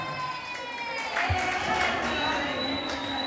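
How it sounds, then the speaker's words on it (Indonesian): An audience at a school biography competition semifinal in an Islamic boarding school claps and cheers in a broad, noisy wash, swelling midway, while voices carry over it. "Kasih aplaus."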